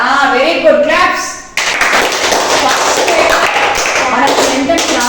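Children in a classroom clap together during a punctuation lesson, a steady burst of many hands close by that follows a brief stretch of a voice speaking and runs to the end.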